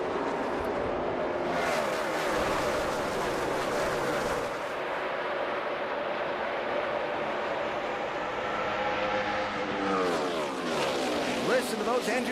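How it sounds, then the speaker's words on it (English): Loud NASCAR Sprint Cup engines roar continuously as the pack accelerates into turn 3 at Charlotte Motor Speedway in 2011, with rising and falling engine pitch and a commentator talking over them. "Listen to those engines scream off into turn 3."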